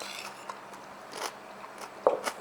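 Crisp, crunchy bites of fried rice made with pickled rakkyo leek bulbs, heard close up as a few separate crunches, the loudest cluster near the end, with no talking.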